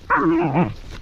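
A working dog on a vineyard lets out a single short, close bark with a slight yelping tail, loud and alone without any talking.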